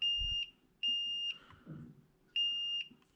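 Three sharp electronic beeps, each about half a second long, evenly spaced with short quiet gaps and a faint clunk between them, while testing MOSFETs in a dead Hyundai 20V Li-ion battery charger.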